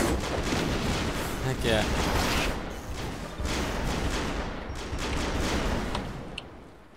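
Sniper rifles fire in the Airmech video game as dense, booming bursts of gunfire that roll on through the whole stretch, loud and close, while a player's voice cuts in briefly.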